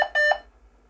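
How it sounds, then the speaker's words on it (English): Short electronic beeps in quick succession from an Amstrad PPC512 MS-DOS laptop starting up, bright and steady-pitched, the last one trailing off into a faint hum as the floppy drive runs. "So three beeps, floppy disk is going."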